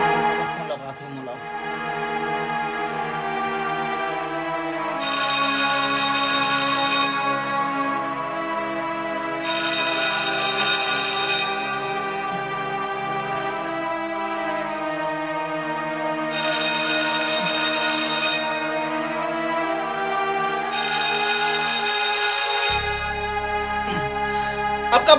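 An electronic phone ringtone trills in four loud bursts at steady intervals over a melodic music background, and speech appears beneath the ringing.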